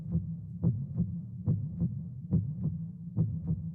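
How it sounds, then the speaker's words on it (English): Looping heartbeat sound effect from a climate change animation, a steady lub-dub thump pattern of about seven beats, close and moderately loud, alone with no talk. "The heartbeat is a little annoying"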